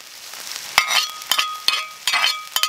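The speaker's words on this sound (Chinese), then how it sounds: "我就下入这个酸豇豆" Pickled long beans are stir-fried in a wok, with repeated sharp scrapes and clinks of the spatula over a bright hiss of sizzling oil, close up and alone with no voices.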